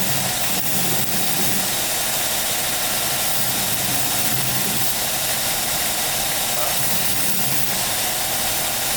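Belt grinder running steadily while a blade is ground, a continuous broadband whir with a low rumble and hiss, loud and close throughout with no talking.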